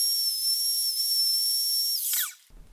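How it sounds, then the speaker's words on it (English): High steady whine of a router trimming a guitar fretboard around an MDF template, holding a constant pitch for two seconds before winding down and cutting off, close and loud. "I'm just going to take the router and trim around that template."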